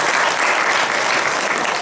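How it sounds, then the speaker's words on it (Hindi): An audience at a school event in Jalgaon, Maharashtra applauds students with loud, dense, continuous clapping throughout the short clip. "सबसे पहले इन सभी विद्यार्थियों को हम सब ताली बजाकर एक बार और फिर अभिनंदन"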